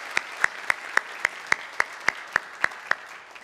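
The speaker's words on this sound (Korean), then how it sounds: "우리 박수로 환영하도록 하겠습니다" A church congregation gives steady rhythmic applause during a Sunday worship service to welcome newcomers, with evenly spaced claps that run for several seconds with no talk.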